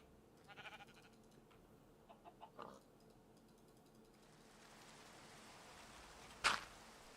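Sheep bleating in the video game Minecraft: a few faint, short bleats early on over a quiet background hum, followed later by one sharp, louder burst.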